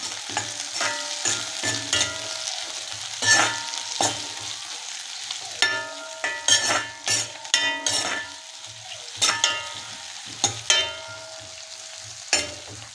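Seedless green chillies sautéing in a pan for a Kerala home-style lunch, with a steady sizzle broken by repeated clinking stirs of a spoon against the pan, close and fairly loud, no talking.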